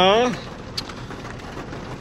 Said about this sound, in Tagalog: O ayan, umuulan na.